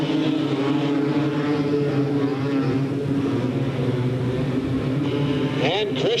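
Race cars roaring off at the green flag at Delta Speedway, a dense, steady engine drone with layered harmonics holding loud throughout, rising whine near the end.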